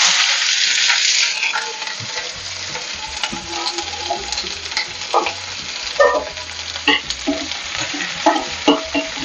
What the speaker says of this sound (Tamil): இப்போ சிறுகீரை காராமணி பொரியலுக்கு நம்ம கடுகு போட்டுக்கலாம். 4 காஞ்ச மிளகா, வெங்காயம்,